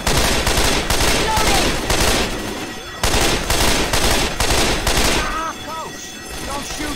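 Loud, sustained bursts of rapid automatic gunfire in the video game Left 4 Dead 2, broken by a short pause and then easing off, while players talk over it.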